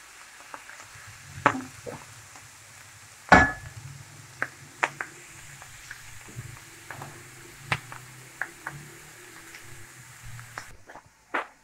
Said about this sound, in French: pendant que mes légumes donc, sont en train de rissoler un petit peu